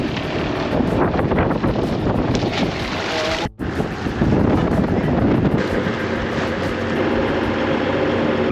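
Strong wind gusts roar across a microphone on a boat at sea near a pearl farm in French Polynesia, a loud continuous buffeting with a brief drop midway and no talk.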